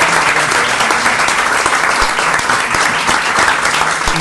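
Theatre audience in Buenos Aires applauding in tribute at a Shakespeare-themed performance, a dense, loud and even wash of clapping that fills the whole stretch without pause.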